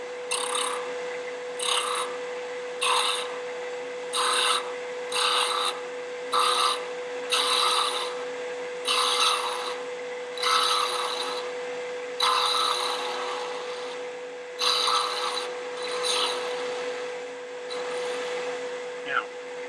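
Wood lathe spinning a wooden bottle stopper as a skew chisel cuts in repeated short scraping bursts over a steady motor whine, a rhythmic rasping pattern repeating every second or so.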